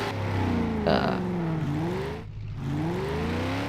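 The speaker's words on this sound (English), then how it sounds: "Quite a nice car, very loud, I may say that, but I guess that's expected because it is a muscle car." A 1970 Dodge Charger muscle car in a racing video game revs loudly, its engine note rising and falling through gear changes, with a brief dip before climbing again.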